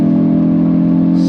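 A Hyundai i20 N hot hatch with a different exhaust and OPF delete holds a steady, loud engine and exhaust drone for about a second, heard close from inside the car, with no talk.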